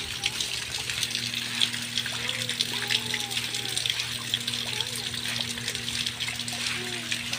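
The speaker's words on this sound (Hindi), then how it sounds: "ये देखिए पानी बहुत सारा गिर रहा है।" Heavy rainwater pours down and splashes in a continuous, rushing gush, close and steady, with a low electrical hum underneath and faint voices now and then.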